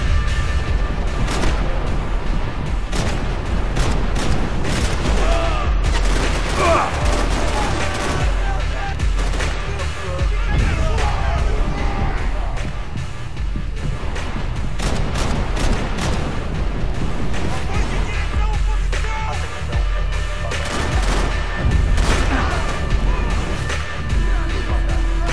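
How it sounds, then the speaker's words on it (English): Heavy gunfight in Max Payne 3 on hard difficulty, loud bursts of automatic fire and single sharp shots with occasional booms, near and relentless over nearly half a minute, with some speech mixed in. "Still shooting at me up top."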